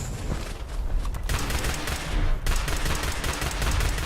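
Rapid bursts of two-shot laser pistol fire in the video game Fallout 76, a dense, loud, continuous crackle of shots with brief gaps, no talk over it.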